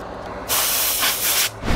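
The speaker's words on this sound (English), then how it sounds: "So I'm just spraying it with isopropyl alcohol, flooding it" Isopropyl alcohol is sprayed onto a circuit board from a Vizio M3D470KD television in a single loud, steady hiss lasting about a second, close up and alone.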